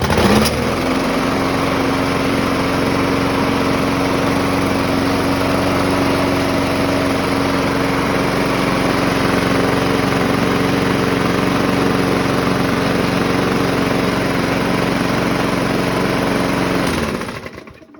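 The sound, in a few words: lawnmower engine running with a bent crankshaft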